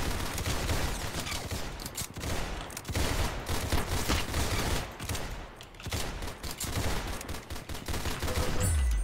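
Rapid gunfire from a Roblox Arsenal match, dense bursts of shots crackling almost continuously with brief gaps, loud and close throughout.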